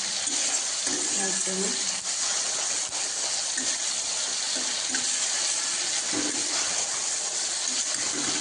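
Water poured into sizzling spice paste for a pabda fish curry makes a loud, continuous hissing sizzle that stays dense and steady, with faint voice murmurs now and then.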